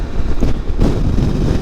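Wind roars against the microphone during a ride on a Can-Am Spyder, a loud, continuous low buffeting rush with no voices over it.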